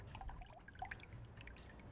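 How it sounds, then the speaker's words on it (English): Antifreeze trickles and drips steadily into a funnel, a thin, light pouring stream with small splashy drops, fairly quiet and close. "Now I'm going to pour in the rest of my straight antifreeze."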